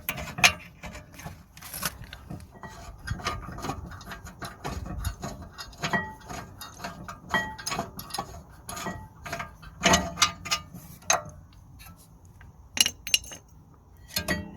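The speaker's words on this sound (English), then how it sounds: "bottom clamp bolts which we are removing." A ratchet works the rear brake caliper clamp bolts loose on an Audi A3/RS3, giving repeated close metallic clicks and clinks in irregular bursts over about fifteen seconds, with no talking.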